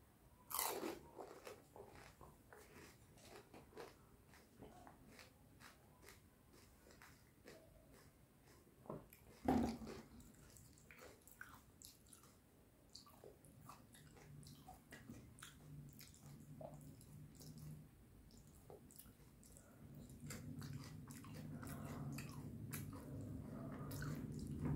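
Crunchy fuchka (panipuri) street food being eaten close to the mic: sharp bites and wet crunching chews, with a louder crack near the start and another around the middle, and a soft drip of tangy water in between.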